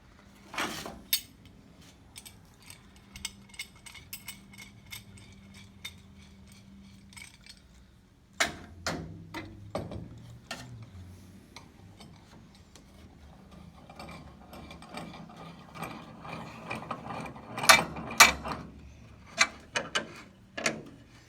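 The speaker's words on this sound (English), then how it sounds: "Now I'm going to move this up, and we'll try it right here with a second clamp" Ratcheting clicks and metallic clanks as a second clamp is tightened on the damaged cowl of a 1947 GMC truck, in close, intermittent bursts with quiet gaps between.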